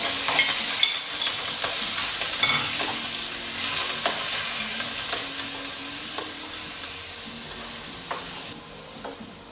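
Buttered chicken sizzles steadily in a frying pan while it is stirred, with scattered scraping strokes over a constant close hiss and no talking.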